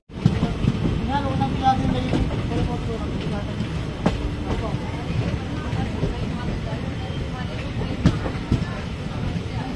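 A passenger train runs on the Moradabad–Dehradun line near Gajrola, giving a loud continuous rumble with wheel clatter and occasional sharp clanks, while a hubbub of voices sits underneath.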